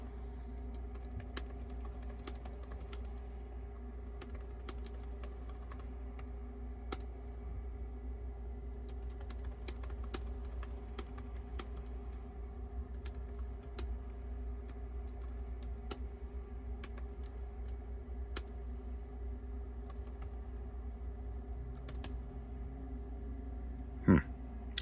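Steady quick keystrokes on a Boox Note Max keyboard case, clicking lightly and continuously at close range over a faint low background hum, with no talking.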